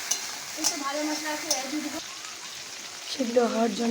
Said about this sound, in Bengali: এবার ক্যাপসিকাম দিচ্ছে, এটাকে নিয়ে একটু নাড়াচাড়া করছে